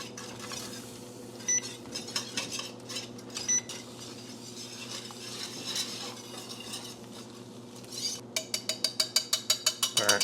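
A whisk works through a thickening milk sauce in a pan, scraping and clinking against the metal with an irregular rhythm that turns into quick, regular strokes near the end, with no talking.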